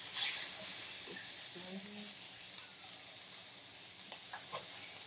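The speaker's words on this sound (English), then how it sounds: "So now we're going to sear all the edges." NY strip steak edges searing in a hot pan, a steady bright sizzling hiss that is loudest at the start and then holds at a constant level, with faint background noises.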